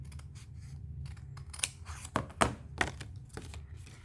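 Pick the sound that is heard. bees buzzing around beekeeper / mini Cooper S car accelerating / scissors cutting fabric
scissors cutting fabric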